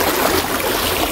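Steady broadband rush of a stream running past, continuous and fairly loud with no voices over it, at a cool shaded spot along a path near Azhagar Kovil.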